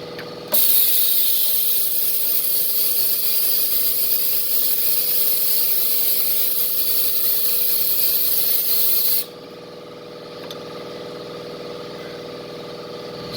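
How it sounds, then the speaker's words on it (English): Brake fluid hisses loudly and steadily from an opened bleeder valve on a Ram 2500 caliper, a close, continuous spray that cuts off abruptly partway through, leaving a quieter hum. "I'm going to open my bleeder valve."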